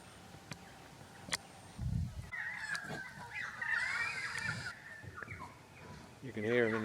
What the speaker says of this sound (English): They're pretty loud, the old currawongs.